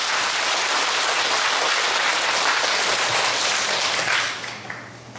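Dense, steady applause from a large audience at a Korean lecture or talk, loud and continuous for about four seconds before tapering off at the end.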